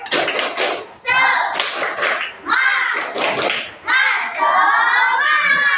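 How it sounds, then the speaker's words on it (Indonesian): Children in a grade 4 classroom perform a rhythmic clap chant, bursts of sharp hand claps alternating with loud chanted voices in quick patterned phrases, close and energetic throughout. "semuanya tepuk tangan dulu. Tepuk semangat"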